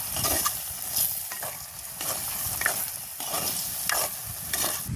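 Chickpeas and brinjal stirred and turned in a sizzling frying pan for a village-style curry, with steady frying hiss and repeated scraping strokes of a spoon close by, no talking.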